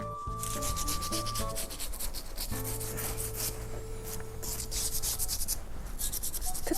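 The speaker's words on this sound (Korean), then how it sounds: "지금 줄기를 닦고 있어요." Steady rubbing and wiping on the trunk of an extra-large Dracaena plant in a plant shop, a continuous close scraping texture with a faint tonal hum underneath and no talking.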